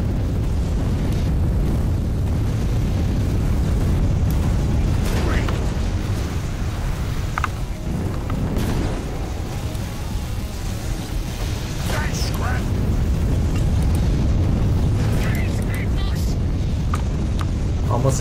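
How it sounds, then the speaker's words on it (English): Bombs dropped on enemy turrets in the 2021 video game Dakka Squadron explode as a continuous heavy rumble of booms over a constant loud engine-like drone. "Bombs away!"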